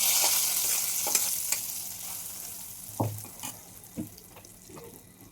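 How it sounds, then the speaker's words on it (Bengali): Spices tempering in hot oil for village-style khichuri, a steady sizzle and hiss close by with a few sharp clanks and scrapes of utensils against the pot, no speech. "আমি কিন্তু এখন ফোড়নটা দিয়ে নেব"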